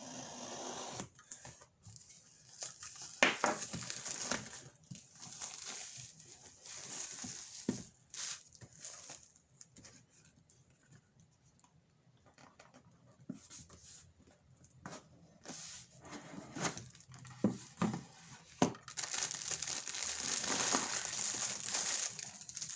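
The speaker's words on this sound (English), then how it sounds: "Just cutting the plastic off this." Plastic wrapping being cut and pulled off a Tesla Model Y dash cover, with close crinkling, crackling and snipping in irregular bursts, louder at the start and end and quieter in the middle.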